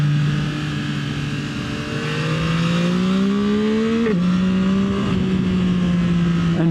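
Yamaha MT-09 SP motorcycle ridden hard through a set of mountain road corners, its engine note climbing steadily, dropping sharply at a gear change and then holding a loud, close, continuous drone throughout.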